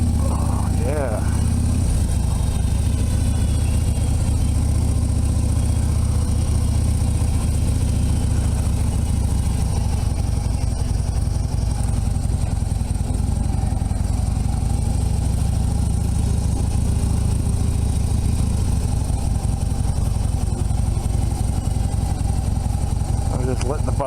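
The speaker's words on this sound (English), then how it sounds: "I'm letting the bike settle down because, you know, the first couple of seconds or a minute or so, you gotta let the bike warm up" A motorcycle engine idles steadily while warming up, a loud continuous rumble held close for the whole stretch with little change in pitch.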